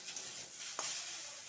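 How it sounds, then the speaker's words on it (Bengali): Potato pieces being stirred in hot oil in a pan, a soft sizzle with a scrape of the spoon or spatula midway, faint and close. "এবার লাল লাল করে ভেজে নেব"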